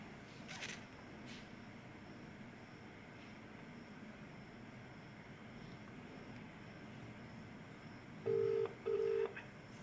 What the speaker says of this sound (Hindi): तो फिर से मैंने कॉल लगा लिए, लेकिन फ़ोन लग नहीं रहा उसका